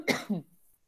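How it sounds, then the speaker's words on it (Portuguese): A single speaker coughs twice in close succession, a sharp near cough followed by a lower throat-clearing burst, then a faint trailing breath. "Quer me dar tosse."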